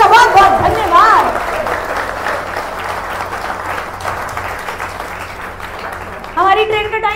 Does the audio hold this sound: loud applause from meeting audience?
yes